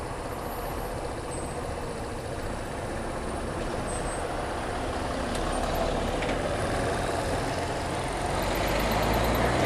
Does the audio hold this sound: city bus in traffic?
yes